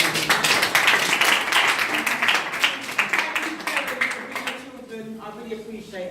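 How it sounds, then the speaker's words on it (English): An audience claps after a talk on nutrition, a loud, dense burst of many hands that gradually thins and fades while people talk over the final seconds. "So just give her one last clap."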